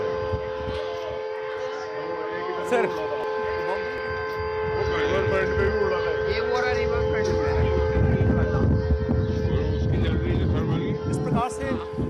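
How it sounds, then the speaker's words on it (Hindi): A civil defense mock drill siren sounds in Delhi, holding steady, continuous tones beneath a voice talking nearby, with street noise mixed in throughout. "यहाँ मॉक ड्रिल बजाया गया है, सायरन यहाँ पे बजा है।"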